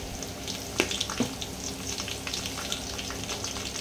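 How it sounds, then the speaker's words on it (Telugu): Curry leaves going into onions frying in hot oil, a faint steady sizzle and crackle with a couple of brief sharper pops, heard from a little distance. "ఇప్పుడు ఇందులో కరివేపాకు యాడ్ చేసుకుందాం"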